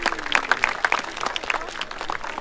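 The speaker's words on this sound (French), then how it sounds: "On peut l'applaudir," Spectators at a bird show clap for an osprey after its fishing dive, a light, scattered round of applause with uneven individual claps and a faint voice underneath.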